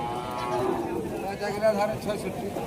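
A cow lows at a busy cattle market in Rajshahi, a drawn-out moo rising under nearby chatter as people talk over it.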